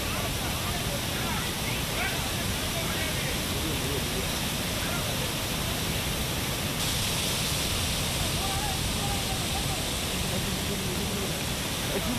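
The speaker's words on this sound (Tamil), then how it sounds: "குற்றாலம் அருவிகளில் வெள்ளம் ஆர்ப்பரித்து கொட்டுகிறது" Floodwater from heavy rain in the Western Ghats hills roars down the Courtallam waterfalls, a loud, unbroken wall of rushing water that holds steady throughout.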